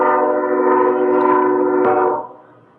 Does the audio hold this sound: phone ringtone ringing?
no